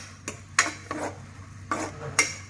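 A utensil scrapes and clinks against a pan while seasoning is stirred into pork broth for a Thai pork skin salad, giving five sharp metallic taps spread unevenly over a quiet background.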